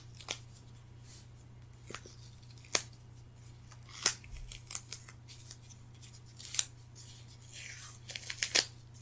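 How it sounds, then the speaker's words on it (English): Tape being pulled and torn off a roll during a first aid roleplay, heard as sharp close rips and crinkles in an uneven series over a quiet steady hum. "Let's get some more tape off of here."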